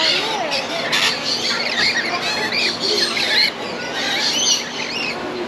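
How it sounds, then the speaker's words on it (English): Many birds chirp, squawk and whistle together in a busy chorus in a mixed bird and duck aviary enclosure at Busch Gardens Tampa, with faint background voices underneath. "this enclosure with all different types of birds and ducks"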